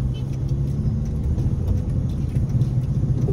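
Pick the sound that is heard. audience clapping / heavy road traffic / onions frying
heavy road traffic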